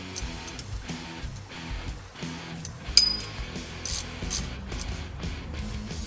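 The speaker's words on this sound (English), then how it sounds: "then I'm going to take, 1/4-inch ratchet," A 1/4-inch ratchet snugs down bolts during a Nissan QR25 engine rebuild on a B15 Sentra, giving light metallic clicks and clinks in scattered bursts, with a sharper clank near the middle, close up over a low background hum.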